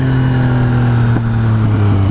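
A motorcycle engine runs loud and close with a steady low drone, rising slightly in pitch toward the end, with no voices.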